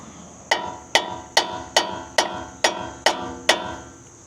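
Eight sharp metallic hammer strikes knocking out a truck strut part during a leveling kit install, at a steady rhythm, each ringing briefly before the next, close and clear with no talking.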